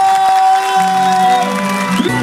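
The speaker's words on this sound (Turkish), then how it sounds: "alkışlar!" An outdoor concert crowd applauds and cheers, a steady roar of clapping and voices mixed with sustained musical tones.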